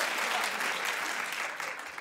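An audience at a live show claps together, producing a dense, steady burst of applause that fills the room and fades slightly at the end.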